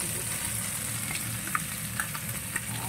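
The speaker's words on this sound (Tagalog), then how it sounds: "So, tumasip-tasip na yung mga mantika." Fish frying in hot, spattering oil, a loud, steady close-up sizzle with a few sharp pops standing out from the constant hiss.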